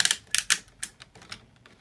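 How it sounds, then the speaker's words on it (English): The ratcheting elbow joint of a Transformers Armada/Energon Tidal Wave action figure being turned gives a quick series of sharp, close clicks, loud at first and then fading. "Hear that nice ratcheting."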